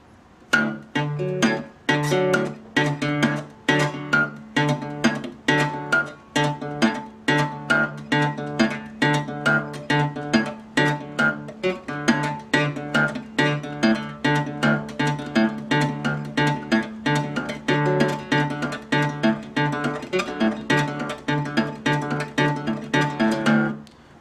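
A finger-picked acoustic guitar plays a repeating six-note Delta blues pattern, each plucked note sharp and ringing, looping steadily and evenly for the whole stretch with no voice.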